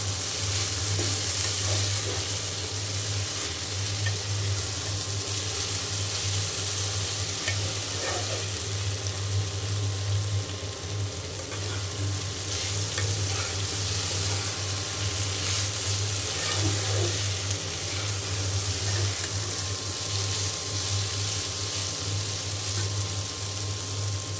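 Food frying in a pan with a steady sizzle and faint stirring scrapes, held at an even level throughout with no voices.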